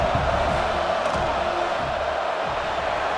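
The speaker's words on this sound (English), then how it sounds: "This crowd trying to do its part to get inside the kicker's head." Stadium crowd noise from the EA College Football 26 video game, heard as a dense, steady roar of cheering and whooping that stays loud throughout as the field goal unit comes out.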